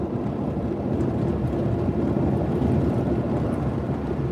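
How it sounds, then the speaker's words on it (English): Steady, continuous winter wind roaring and buffeting at close range, a broad low rumble that holds evenly throughout with no voices. "Wintertime is not usually windy like this."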